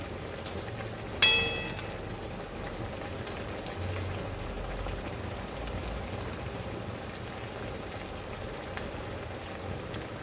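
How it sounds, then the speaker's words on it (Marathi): Sabudana vada shallow-frying in hot oil, a soft continuous sizzle and crackle at low level, steady throughout with a brief clink of a utensil near the start. "एक एक बाजू शेकून घ्यायची आहे तळून घ्यायची आहे"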